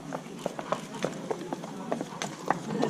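Racehorse hooves clip-clop on hard ground during a yard open-day parade of horses, a steady series of sharp, moderately near footfalls in an irregular walking rhythm over faint background murmur.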